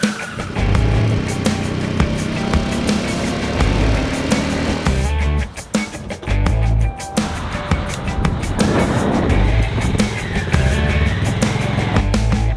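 Harley-Davidson Pan America adventure motorcycle riding over mixed pavement and off-road through Utah's national parks, a steady loud engine drone with wind rush for most of the ride, briefly dipping and breaking up in the middle before resuming.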